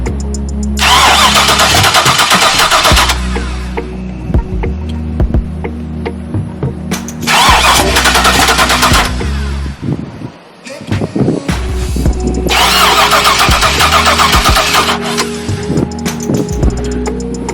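The LS-swapped 6.0 V8 in a Chevrolet C10 truck cranks over without firing in three long, loud bursts of rapid starter churning. Humming pauses separate the bursts.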